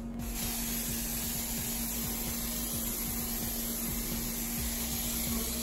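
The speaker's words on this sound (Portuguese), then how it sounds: "eu vou usar esse fixador de maquiagem em spray da Ruby Rose" Ruby Rose makeup setting spray hisses in one continuous close, steady mist lasting several seconds.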